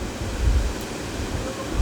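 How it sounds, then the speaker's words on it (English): Steady wind blows outdoors, a continuous low rumbling buffet with gusty swells, close to the microphone and fairly loud throughout, with no talking. "It's getting windy out."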